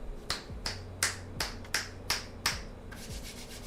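Sharp hand claps into a condenser microphone, about seven quick, evenly spaced claps over a few seconds, close and fairly loud with a faint room hum underneath and no talking.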